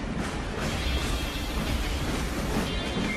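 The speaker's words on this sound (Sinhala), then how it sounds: "මේ දැන් කෝච්චිය යන්නේ මේ පැත්තට" A moving train heard from inside a carriage gives a loud, dense rumble with a steady rattle, close and continuous, and no clear voices.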